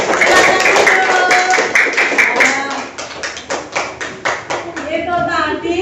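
A classroom of students claps for a group's presentation, a short burst of quick, rhythmic hand claps that follows a teacher's spoken remarks.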